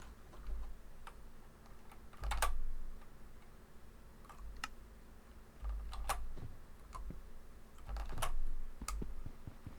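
Light keyboard keys pressed in sparse clusters, with occasional sharp mouse clicks, as a shortcut is tried out on a computer. Quiet and close, with faint low hum beneath and no talk.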